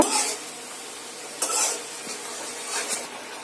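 Chicken hits a pan of sizzling masala spiced with cardamom, cinnamon and cloves, giving a soft hiss punctuated by three brief sizzling, stirring bursts close by.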